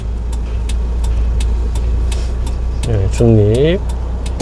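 A car engine hums steadily at low pitch during a driving lesson as the vehicle slows, with a rise toward the end while people talk briefly over it.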